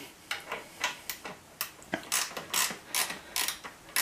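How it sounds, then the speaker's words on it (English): Wrench turning a bolt while fitting a springer seat on a Triumph Bobber motorcycle: a steady run of quick ratcheting clicks, close and fairly quiet, with no talk. "just put a wrench in that side so you can jiggery pokery it a bit"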